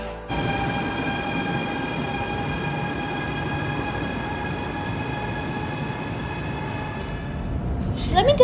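A bullet train between Beijing and Shanghai glides along with a steady rolling rumble and sustained high whining tones, heard continuously from inside the carriage, with a brief clatter at the end.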